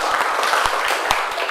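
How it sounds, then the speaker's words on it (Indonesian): A school class at a junior high in Nganjuk claps together, a short burst of fairly loud, brisk applause with a few sharper individual claps standing out. "tepuk tangan untuk kita semua"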